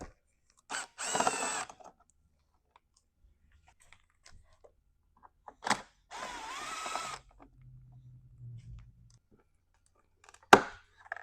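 Tool work on an Aprilia RS 660 fairing panel, backing out two 3mm Allen bolts; short, close mechanical whirring bursts separated by long quiet gaps, with no voices.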